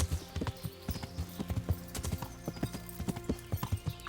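Rhythmic clip-clop of a ridden horse's hooves, steady and close, in the medieval game Kingdom Come: Deliverance, with a faint voice now and then.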